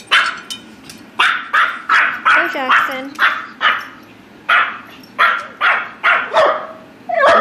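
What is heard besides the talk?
Maltese dog barking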